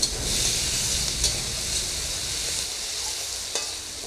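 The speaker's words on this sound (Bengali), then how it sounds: "পেঁয়াজ কাঁচা লঙ্কা টমেটো কুচি ভালো করে একদম ভাজা হয়ে গেছে" Onion, green chilli and chopped tomato frying in a pan, giving a steady close sizzle with occasional stirring scrapes throughout, no voices.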